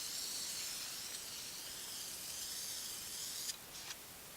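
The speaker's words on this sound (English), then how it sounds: "I sprayed down my cement a little bit" A spray paint can hisses steadily while coating an arcade cabinet during a refurbish, in one long continuous spray that cuts off, then two short bursts.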